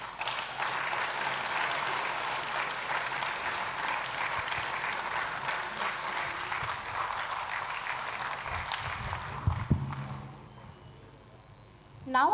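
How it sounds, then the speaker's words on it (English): Audience applause for dignitaries at a corporate anniversary ceremony, a steady, dense round of clapping that carries on for about ten seconds before tapering off. "A huge round of applause for our dignitaries."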